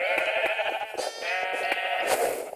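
Minecraft sheep bleat without pause during a Sheep Quest minigame, several loud, wavering bleats overlapping with no talk.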